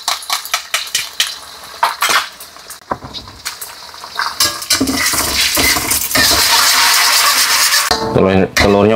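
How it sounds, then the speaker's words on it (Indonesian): Eggs are scrambled in hot oil in a pan, with a utensil scraping and clacking against the metal over a rising sizzle that grows into a continuous loud fry; a voice talks along the way. "kita orak-arik telurnya."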